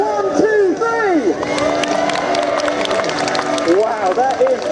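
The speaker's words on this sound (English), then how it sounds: "that is by far the loudest cheer of the day" A large outdoor crowd at a motorbike display team show roars and cheers loudly and continuously, with whistles and scattered clapping woven through the dense noise.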